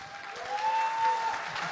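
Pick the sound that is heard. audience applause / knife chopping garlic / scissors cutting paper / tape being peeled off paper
audience applause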